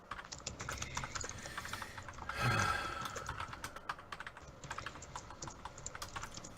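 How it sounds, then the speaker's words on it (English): Rapid clattering keystrokes on a computer keyboard fill the whole stretch, steady and close, with a brief louder swell of background noise midway. "I was just finishing typing."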